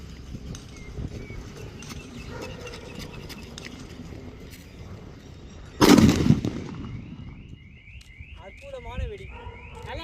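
An atom bomb firecracker set off during Diwali gives a single loud, sharp blast that rises abruptly out of steady outdoor background noise and is followed by a short decaying rumble. Voices and faint chirping continue around it.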